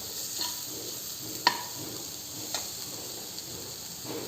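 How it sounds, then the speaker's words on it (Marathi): Spices sauté in a pan over a low gas flame, a soft steady sizzle broken by a few faint clicks of stirring. "आता हे घेतलेले सर्व मसाले घालून घेऊया आणि छान परतून घेऊ"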